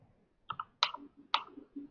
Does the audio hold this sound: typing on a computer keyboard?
yes